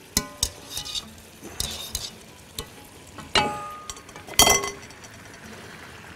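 Chicken liver stirred and fried in a pan, with scraping utensil strikes and clinks against the metal recurring irregularly over a soft steady sizzle, close and fairly quiet.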